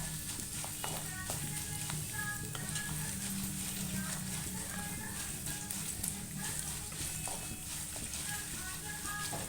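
Steady sizzling of a tempering of urad dal in hot oil in a pan, a constant crackling hiss with occasional stirring clinks, close and fairly loud throughout.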